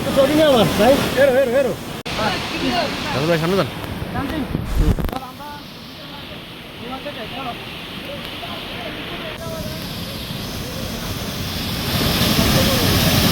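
Rupshi waterfall at Boro Kamaldah, Mirsarai, Chattogram, a steady rushing roar of falling water that continues throughout, with people talking loudly over it during the first few seconds.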